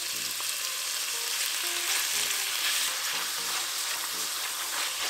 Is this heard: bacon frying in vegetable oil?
yes